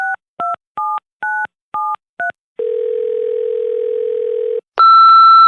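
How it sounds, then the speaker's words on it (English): Six quick two-tone telephone keypad beeps in an uneven rhythm, followed by a steady held ring tone for about two seconds, then a brighter, louder tone as a phone call is placed. "let's try to get him on the phone"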